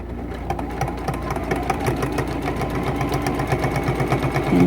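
A sewing machine rattles along a seam while binding a T-shirt quilt, its needle thumping in a fast, even rhythm, loud and close throughout.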